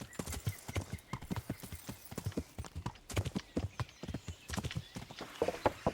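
Steady clip-clop of horse hooves trotting at a brisk, even rhythm in the video game Kingdom Come: Deliverance, fairly close and clear, with no voices over it.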